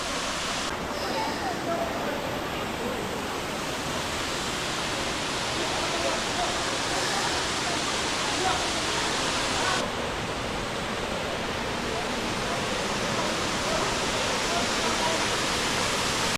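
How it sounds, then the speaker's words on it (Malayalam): A waterfall pours into a natural swimming pool in Meghalaya, producing a dense, unbroken roar of rushing water that stays loud and even throughout. "നല്ലൊരു വെള്ളച്ചാട്ടം അതുപോലെ നല്ലൊരു സ്വിമ്മിംഗ് പൂളും"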